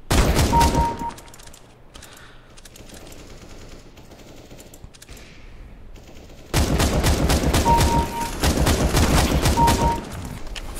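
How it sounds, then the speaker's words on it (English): Counter-Strike gunfire rattles out in loud automatic bursts, opening with a heavy volley, easing into scattered quieter shots, then erupting again into sustained rapid fire for the last several seconds. "Someone's shooting me from somewhere."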